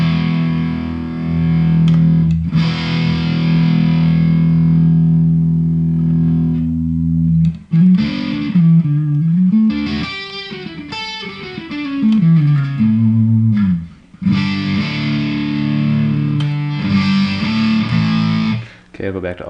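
Electric guitar played through a Keeley-modded Boss DS-1 distortion pedal with the guitar volume rolled back, giving sustained chords and bending melodic lines, loud and close, with short pauses between phrases.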